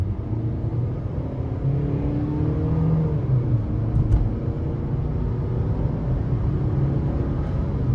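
A 2018 Buick Encore Sport Touring with the 1.4-liter turbo engine pulls hard under acceleration, its steady rumbling drone rising in pitch over eight seconds inside the cabin, with no one speaking.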